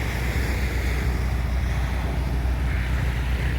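Waves washing onto a beach in the Philippines, a loud, steady roar of surf with wind buffeting the microphone and no voices.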